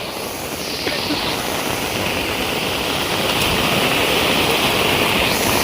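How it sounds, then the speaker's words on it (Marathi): Continuous rushing of a rain-fed stream in rural Konkan, where someone jumps in for a swim; a broad, steady wash of flowing water fills the clip with a slight surge near the start. "मी पाण्यात उडी मारतोय"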